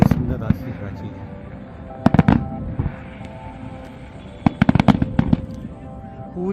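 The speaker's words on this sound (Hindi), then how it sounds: "कितनी सुंदर आतिशबाजी है।" At the Diwali Deepotsav in Ayodhya, fireworks burst over the old Saryu bridge in sharp, loud clusters of cracks and bangs separated by short pauses, with a crowd murmuring throughout.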